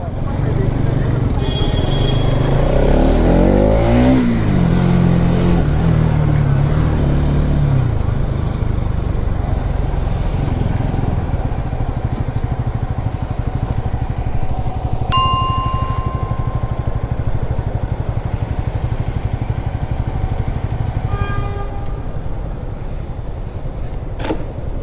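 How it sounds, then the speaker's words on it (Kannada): New motorcycle on a night ride through Bengaluru, a steady loud engine and road drone throughout with wind noise, a few brief dings and clanks, and a voice talking over it. "ಹೊಸ ಬೈಕ್ ಬಂದೈತಲ್ವಾ, ಅದಕ್ಕೆ ಒಂದು ರೌಂಡ್ ಹಾಕೋಣ ಅಂತ"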